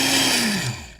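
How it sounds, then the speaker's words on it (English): A blender whirring loudly as it grinds cashews toward a thick butter, a close steady motor roar that dips in pitch and winds down near the end. "this blender's taking a little bit longer"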